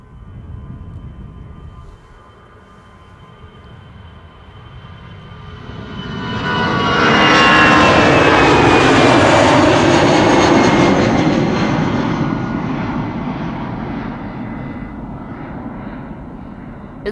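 A jet airliner departs Amsterdam Schiphol bound for Frankfurt, its engine roar swelling from a distant hum to a loud, close takeoff thunder with a descending whine, then fading slowly as it climbs away.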